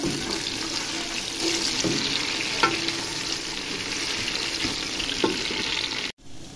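Chopped tomatoes fry with onions in a pan for a potato and egg curry, making a steady loud sizzle with occasional scraping stirs before the sound cuts off abruptly.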